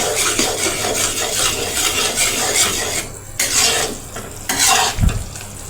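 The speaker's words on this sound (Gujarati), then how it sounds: "આપણે આ રીતે તેને હલાવતા રહીશું તાવીથાની મદદથી" Spatula stirring melted jaggery in a pan, steady scraping and rubbing strokes with soft sizzling, fairly close, broken by a few louder scrapes near the end, without any talk.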